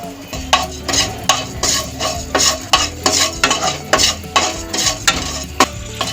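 Radhuni and fennel seeds dry-fry in an empty wok, a soft sizzle broken by regular, close scraping strokes of a spatula, about two per second, with no voices.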